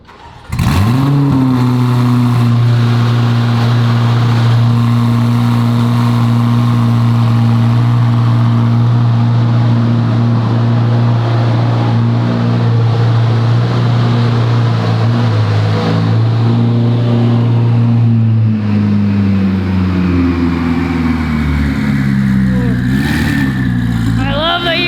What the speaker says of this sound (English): Hear those turbos at the back.